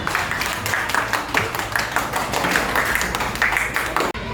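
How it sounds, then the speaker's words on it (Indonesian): Students in a classroom clap their hands together on the teacher's cue, a continuous, fairly even patter of many hands at moderate level that cuts off abruptly near the end. "Bagus, tepuk tangan semuanya."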